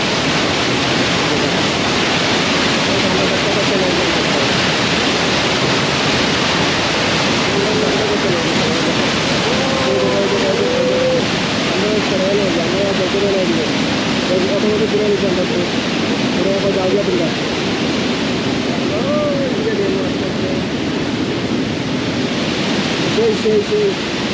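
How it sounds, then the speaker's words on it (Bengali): Panimur Waterfalls in Dima Hasao, Assam, roars steadily, continuous rushing water filling the scene, with faint voices barely audible beneath it. "পানি মোড় ওয়াটারফল কেমন লাগলো আপনার?"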